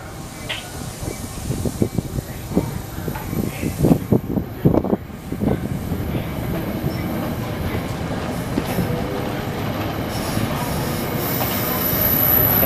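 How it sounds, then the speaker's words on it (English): NJ Transit Northeast Corridor semi-express train pulling out of Hamilton station, a steady close rumble of railcars with wheel clatter and squeal that swells toward the end, no talk. "semi-express train number 3855 departing Hamilton."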